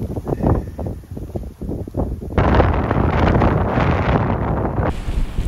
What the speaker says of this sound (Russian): Да, вот такая пурга.